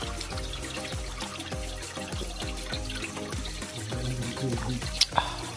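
Spring water trickles steadily in a rural field, a close, continuous wet flow with a loosely rhythmic patter and a couple of brief sharper splashes near the end.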